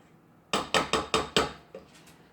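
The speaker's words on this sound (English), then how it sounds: "scrape off your spatula." A spatula knocked against the rim of a pan holding oil and shortening, five quick, sharp metallic raps in a row, then a couple of fainter taps.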